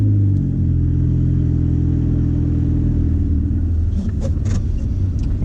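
A turbocharged Honda Accord CD5 idles loud and close with a deep, steady rumbling drone, then a few sharp clicks and knocks come in near the end, with no talking.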